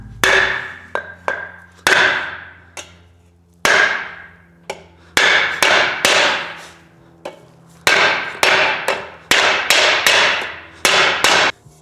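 A hammer strikes a block during a Ford 351C engine build, a series of sharp, loud metallic-wooden blows in uneven bursts with short pauses between them, close to the microphone.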